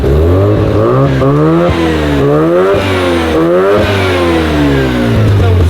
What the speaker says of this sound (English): I think she's actually pre-warmed, so you can give her a bit of a rev